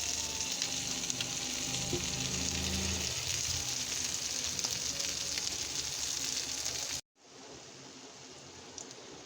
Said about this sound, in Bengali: এখন গাইস হয়ে গেছে কই মাছ ভাজা।